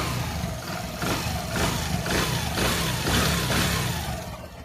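A Hero Honda Splendor motorcycle engine running after an engine repair, a steady close idle with a rhythmic pulsing chug about twice per second, moderately loud and alone without voices.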